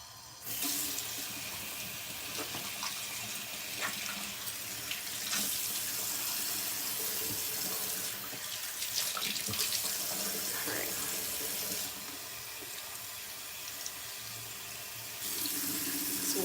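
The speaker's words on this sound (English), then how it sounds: "This water is ice cold." Ice-cold water runs steadily from a sink tap, a continuous hissing splash at a constant level with brief shifts in the flow.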